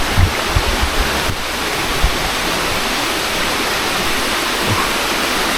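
A river flows right alongside a village of Javanese-style houses in the forest, its steady broadband rush of water continuous and close throughout, with a few low thumps early on.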